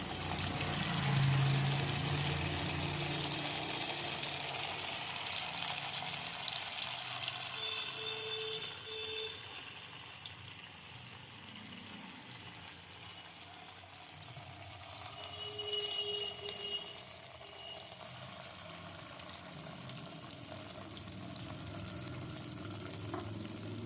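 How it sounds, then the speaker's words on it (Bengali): Sabu (sago) balls are lowered one at a time into hot oil over a low gas flame, giving a steady, close frying sizzle throughout with a brief swell of bubbling partway through. "আগের থেকেই গ্যাসের আঁচটা কমিয়ে রেখেছি এবার একটা একটা করে বল দিয়ে দিচ্ছি"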